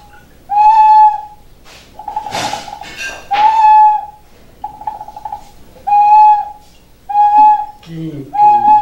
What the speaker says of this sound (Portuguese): Faz uma pressão que aciona o apito